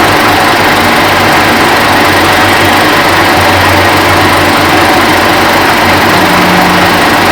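A metal lathe turns a workpiece while the tool takes a shallow cut, and the tool holder is poorly clamped. A steady, loud mechanical drone with a high whine holds constantly throughout, with no voices.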